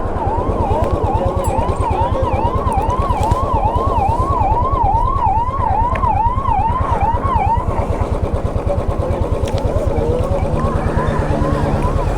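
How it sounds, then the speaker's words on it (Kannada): A loud ambulance siren wails in a fast, repeating up-and-down sweep, close by over a steady engine rumble, then fades after several seconds. "ಆಂಬ್ಯುಲೆನ್ಸ್ ಬಂತು"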